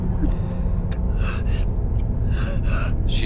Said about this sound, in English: She's breathing. Very roughly.